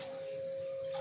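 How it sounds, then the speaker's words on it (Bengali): Water poured into a pan of fried rice while cooking basanti pulao, a brief steady splashing stream at close range with no talk. "এখন জল দিয়ে দেব।"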